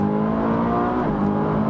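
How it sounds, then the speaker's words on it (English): Ferrari 458 Speciale engine revving hard through an upshift, a loud, close, sustained harmonic wail that dips briefly at the gear change and carries on, with no talking. "That's a wicked upshift"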